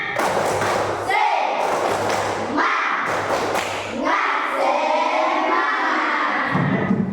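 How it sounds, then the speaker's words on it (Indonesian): A primary school class in a lesson performs the "tepuk semangat" clapping chant together, with rhythmic bursts of thumping claps and children's voices chanting over them, loud and close, pausing briefly between rounds. "Tepuk semangat."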